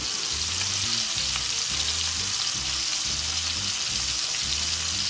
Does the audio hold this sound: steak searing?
yes